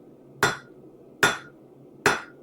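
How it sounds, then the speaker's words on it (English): Steel struck with a hammer on an anvil at a forge while shaping a long, skinny leaf: three sharp, ringing metallic blows evenly spaced about 0.8 seconds apart, each decaying quickly, close and alone without talk. "we are not hammering half on and half off over the edge of the anvil"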